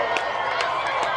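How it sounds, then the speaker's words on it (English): A crowd cheers and shouts during a total solar eclipse, a dense, loud wash of many voices with scattered claps, steady throughout the short moment. "And the crowd goes wild."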